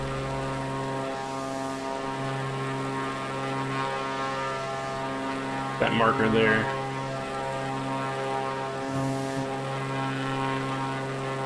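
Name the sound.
propeller airplane engine in Flight Simulator video game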